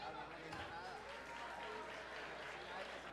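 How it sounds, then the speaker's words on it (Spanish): Audience applause after a fight at a Colombian combat-sports event, a steady, dense wash of clapping and crowd noise filling the whole stretch at a constant level. "Un aplauso."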